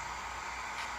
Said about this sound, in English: you hear the sound of the air brakes bleed off